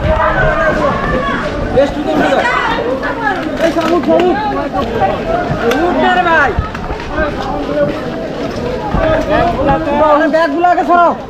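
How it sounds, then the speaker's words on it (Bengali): Passengers crowd and rush to board a packed sleeper-class train, a loud dense babble of many overlapping voices with shouting and scuffling, close and continuous throughout. "স্লিপার ক্লাসের টিকিট নেই, তারপরেও কিন্তু লোকেরা এখানে ভিড় করে উঠছে। জাস্ট দৌড়াদৌড়িটা দেখুন।"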